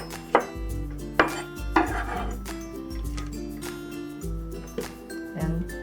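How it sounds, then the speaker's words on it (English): A knife slices through shallot on a cutting board in a home kitchen, giving a few separate, crisp chops at an uneven pace with short gaps between them, close and fairly quiet. "Next, we can slice the shallot."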